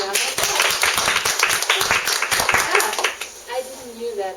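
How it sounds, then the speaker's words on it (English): A crowd applauds steadily with dense overlapping claps, and a few voices talk over it as the clapping thins toward the end. "Let's give her a round of applause."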